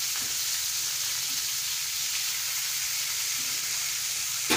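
Thin patties sizzle in a little cooking oil on a hot griddle, giving a continuous bright crackling hiss with no breaks, close and steady throughout.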